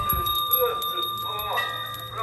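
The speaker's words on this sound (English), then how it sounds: "you ring the bell one time for good luck and prosperity" A temple bell rung for good luck in Chiang Mai during Dharma Day leaves a sustained metallic ring that lingers through the clip, heard under a person talking.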